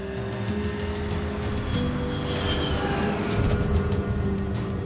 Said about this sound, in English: The plane is just moments from landing in Yaroslavl, a city 250 kilometers northeast of Moscow.